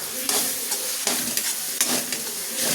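Spiced masala of garlic, cumin, dried red chili and tomato poured into a hot pan for fish curry, sizzling steadily while a spoon stirs in repeated scraping strokes, close and loud with no talk.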